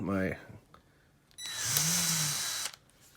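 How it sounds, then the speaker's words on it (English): A short burst of speech, then a high-pitched whining Ridgid cordless right-angle drill with an undersized battery runs for about a second, nearby and steady, before stopping. "It's my little rigid right angle drill."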